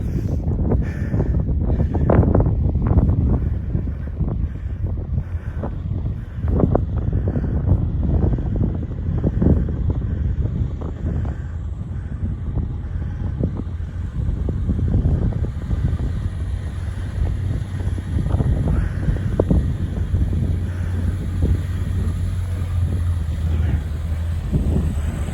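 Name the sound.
strong wind on a hilltop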